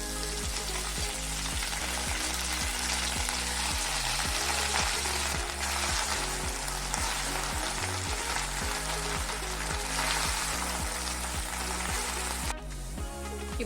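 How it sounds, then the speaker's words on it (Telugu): Washed mint leaves fry in hot oil in a pan for chutney, making a steady, dense crackling sizzle throughout with soft stirring scrapes and a low hum underneath, and no talking. "ఆయిల్ కాస్త కాగాక ఇందులోకి కడిగి ఉంచుకున్న పుదీనా ఆకుల్ని వేసుకోవాలి"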